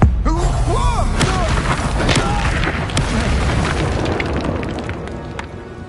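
The Incendio fire spell in the Hogwarts Legacy video game bursts as a loud, booming blast. Crackling and thumping combat noise follows and fades over several seconds, with a brief voice near the start.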